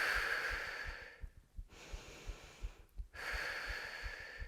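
Slow, deep breaths during a standing Pilates barre stretch, heard close and steady as long airy inhales and exhales alternate, with a faint low rhythmic thump beneath them.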